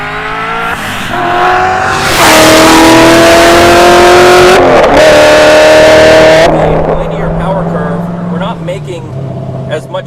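A loud Hennessey Corvette Z06 with a centrifugal supercharger roars close by as the car accelerates hard, a rising whine holding over the revving before the sound drops off and a voice speaks over it.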